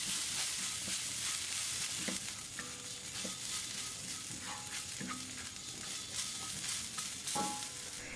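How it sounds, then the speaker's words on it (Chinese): Sichuan peppercorns stir-fried in a wok over medium heat for spicy peanuts, a crackling sizzle broken by repeated scraping strokes and metallic spatula clinks. "这里呢用中火翻炒，炒出里面的香味、麻味和辣味"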